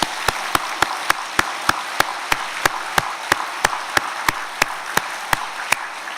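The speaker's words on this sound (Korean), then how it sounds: "하나님을 찬양하는 박수 우리 힘차게 하나님께 드리겠습니다." A church congregation at a New Year's Eve service claps in unison, sharp, evenly spaced claps about three per second over a soft background hum, with nobody speaking.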